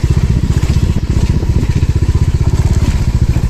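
A motorcycle ridden off-road one-handed through deep forest, its engine chugging in a steady, close, rapid pulsing beat that runs throughout.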